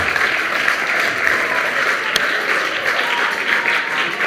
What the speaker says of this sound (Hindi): सिर्फ ताली बजाएं